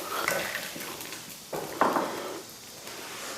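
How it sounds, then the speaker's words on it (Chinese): Food with coriander being stir-fried and scooped out of a wok, soft scrapes and clinks of a spatula against metal over a faint background hum, a couple of sharper knocks, close and quiet. "最后撒上一把香菜，翻炒一下就可以出锅了"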